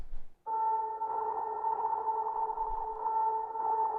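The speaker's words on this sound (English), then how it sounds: "the cassette piano. So this, that's that sound that's happening in the choruses" Soloed cassette piano part from the choruses of Anberlin's "Animals", a steady, held, slightly wavering tone that enters after a short pause and sustains evenly, fairly quiet and alone.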